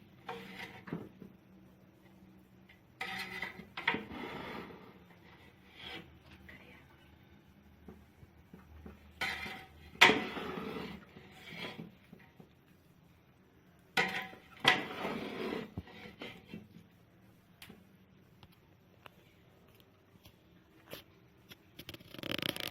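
Degi Mutanjan, a sweet rice dish, being stirred in a pot, with intermittent scraping and clattering of a utensil against the metal in short bursts separated by quieter pauses.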